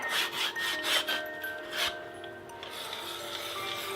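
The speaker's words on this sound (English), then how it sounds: "Put a little bit more dish soap in there maybe, and then just scrub." Hookah parts are scrubbed with dish soap and a brush in a series of close, rhythmic rubbing strokes, then lighter, quieter scraping follows, with no talking.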